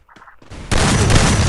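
Gunfire in the battle royale game Free Fire, played on an iPhone 8 Plus: a soft tap or two, then a loud dense burst of rapid shots that keeps going at close range.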